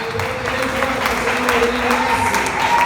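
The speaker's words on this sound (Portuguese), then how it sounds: "Aplauda o Senhor bem" A church congregation at a worship service applauds in praise, a loud, sustained wash of clapping with sung or spoken voices running underneath.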